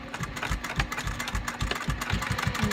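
A sewing machine stitches a flat seam on a fabric wristlet strap, giving a close, steady run of rapid rhythmic mechanical thumps and whirring with no voices.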